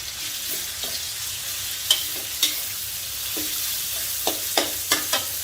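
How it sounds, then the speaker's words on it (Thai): Minced pork stir-frying in a pan with chili and garlic, a steady sizzle with scattered sharp clicks of the spatula stirring and scraping. "เสร็จแล้วก็ใส่หมูสับลงไปค่ะ"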